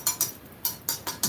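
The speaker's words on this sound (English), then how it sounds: "That is the sound of steel." A steel samurai sword gives off a run of five or six light, bright metallic clinks in quick, uneven succession, fairly quiet and with no voices.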